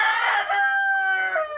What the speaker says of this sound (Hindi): ये मुर्गे महाराज बांग दे रहे हैं